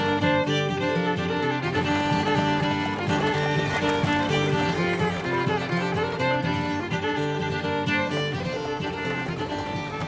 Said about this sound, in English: where a horse named Buster waits to carry him several miles to Kendall Crossing